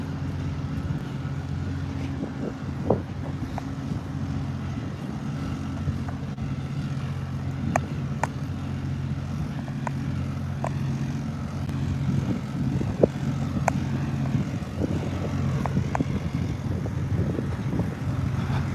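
A loaded semi truck cruising with a muffler and exhaust tip fitted, its engine giving a steady, loud low drone with road noise that swells slightly toward the end, with no talk over it.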